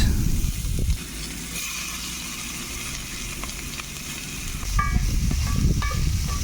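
Chopped onions sizzle steadily in hot oil, a close, continuous crackling hiss with a few stirring scrapes near the end.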